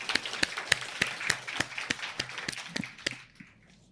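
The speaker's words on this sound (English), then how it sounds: "Please give a round of applause for Nubia Earth Martin." An audience claps for a speaker in a small, sparse round of distinct claps at a steady pace that fades out after about three seconds.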